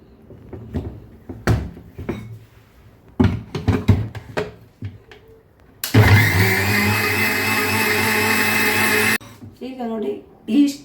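Mixer grinder whirring loudly and steadily for a few seconds as it regrinds batter with a spoon of coconut oil, preceded and followed by clattering and short bursts of a voice.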